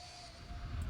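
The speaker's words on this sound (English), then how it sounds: "There's an airplane behind us." Airplane engine drone in the Roblox game Flightline, a steady low rumble with a thin whine while taxiing, growing slightly louder toward the end, alone without talk.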